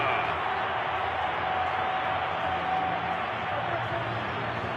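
A stadium crowd roars steadily in reaction to a Springbok rugby try scored by hooker Malcolm Marx from a maul, a broad, sustained wash of cheering that stays loud and even throughout without clear individual voices.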